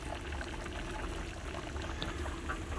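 Pot of potatoes boiling on a wood-fired clay stove for biryani, a steady soft bubbling and hiss, faint and continuous with no voices.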